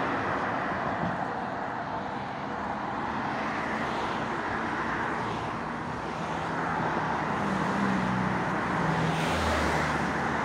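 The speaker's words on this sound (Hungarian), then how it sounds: "Ott most már jönnek az autók." Steady road traffic near a zebra crossing, with cars rolling past in a continuous broadband wash that swells and eases over the stretch, no voices present.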